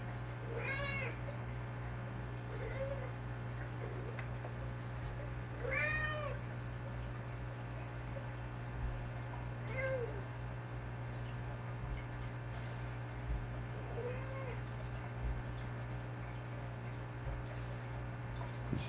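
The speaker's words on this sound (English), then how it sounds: "Oh, kitty." A cat meows several times at spaced intervals, fairly close, over a steady low electrical hum and faint background noise.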